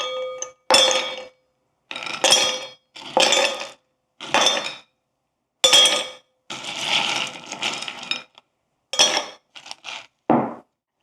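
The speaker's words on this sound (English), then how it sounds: "I'm going to go ahead and just put some of the larger cubes in the bottom." Large ice cubes dropped one after another into a drinking glass while a cocktail is built, giving a series of bright clinks and knocks in uneven bursts, loud and close with no talking.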